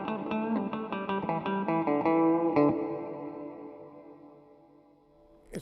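A guitar plays strummed and picked chords through a Cuvave 9 Type reverb pedal with the decay turned fully up, each chord leaving a long washy tail that rings out and fades over several seconds, with a faint click at the end.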